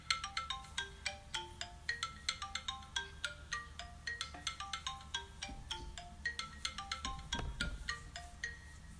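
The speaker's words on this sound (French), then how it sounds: "je vais juste choisir la sonnerie" A phone alarm ringtone being picked for a ten-minute timer, a rapid run of bright melodic chime tones repeating steadily for several seconds, fairly close and clear with no talking.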